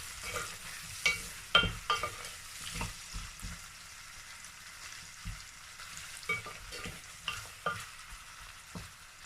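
Efo riro stew bubbles and sizzles in a pot while a spoon stirs it. Scraping strokes come in irregular bursts over a constant low frying hiss, with no talking.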